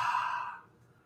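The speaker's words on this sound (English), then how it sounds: "Exhale." A yoga practitioner in a Bikram-style class lets out one long, audible breath. It starts fairly strong and airy, then fades to quiet within about half a second.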